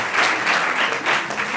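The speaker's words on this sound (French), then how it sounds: "on l'applaudit quand même" An audience at a theatre event applauds a supporting foundation. Dense, close clapping from many hands swells and holds steadily throughout the short burst.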